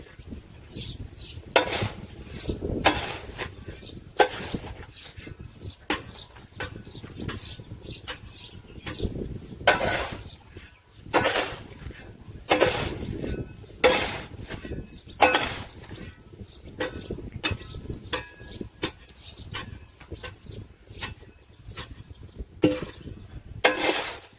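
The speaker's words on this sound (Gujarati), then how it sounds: "હવે આને કમ્પ્લીટ આપણે ભેળવી નાખીએ તઈને ખાતરને સરખી રીતે." Dry granular MOP potash fertilizer, about 15 kg, being mixed by hand into a groundnut basal fertilizer dose, giving repeated close rustling, scraping and gritty crunching bursts in an irregular rhythm with no voices.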